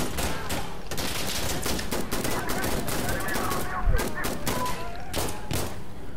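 M4 rifle gunfire in the video game Citadel: rapid, repeated close shots in a steady stream amid a noisy firefight, with players talking over it.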